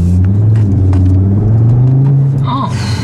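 A car engine revs loudly from inside the cabin while driving, a strong low drone rising in pitch, with brief voices and a sharper sound near the end.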